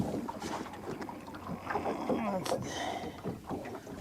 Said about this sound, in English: I got this old boat going too fast.